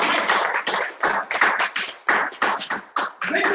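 People clap together at an indoor gathering in an office in Dubai, giving a quick run of sharp, close hand claps in short irregular bursts that fill the whole moment.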